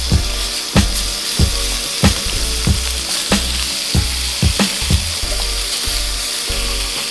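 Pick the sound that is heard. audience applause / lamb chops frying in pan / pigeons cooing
lamb chops frying in pan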